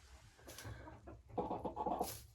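Two broiler hens clucking softly nearby in short, low bursts, a few quiet murmuring calls with brief pauses between them.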